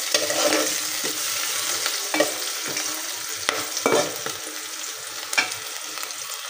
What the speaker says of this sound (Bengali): আমি হচ্ছে গোটা গরম মশলা আর আলু আর পেঁয়াজ সবগুলো এখন ভেজে নিতেছি